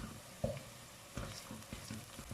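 Onion with pepper and tomato paste sautéing in a pan while being stirred, soft sizzling with a few scraping stir strokes at irregular intervals, close and fairly quiet.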